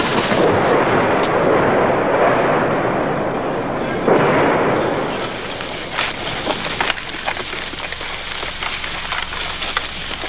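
Vietnam War artillery preparation barrage pounds continuously, a dense, heavy rumble of repeated firing and blasts that eases after about four seconds into a steadier background of distant booms and crackling.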